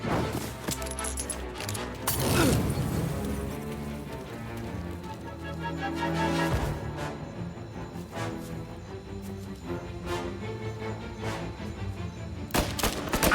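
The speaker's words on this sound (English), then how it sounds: "Reports of gunshots rolling in." Dense gunfire in the 1930s gangster game Mafia, with rapid shots and bursts layered over a continuous game soundtrack for most of the stretch, loudest in a few sharp flurries.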